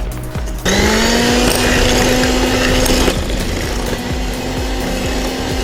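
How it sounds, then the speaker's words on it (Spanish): An electric hand mixer whirs loudly and steadily, its motor pitch shifting slightly as it beats through cake batter, with rhythmic clatter against the bowl. "Ya está con la batidora mezclando."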